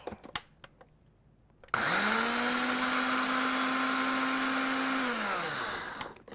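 Blender, a bullet-style shake blender, grinding oatmeal into oat flour: a few light clicks and knocks, then a loud, steady motor whine for about three seconds that winds down and cuts off.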